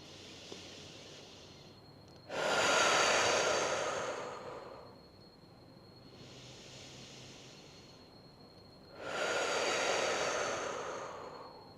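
Slow, deep breathing by a person sitting on a bed with eyes closed: two long, loud airy breaths separated by quieter pauses, close to the listener, with no talking.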